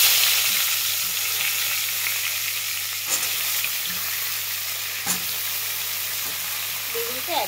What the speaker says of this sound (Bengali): বেগুনটা ভালো করে ভেজে নেব।